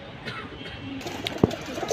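Silver pankhi and military pigeons coo softly nearby, with one sharper call standing out among low background noise.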